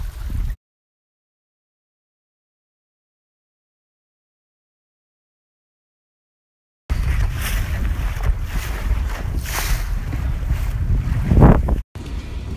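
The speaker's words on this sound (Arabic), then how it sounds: "هذا هو الموج" Sea waves wash and churn around a boat near the Daymaniyat Islands off Oman, a loud, continuous rush mixed with strong wind buffeting the microphone, heard after a long silent stretch and with no talking.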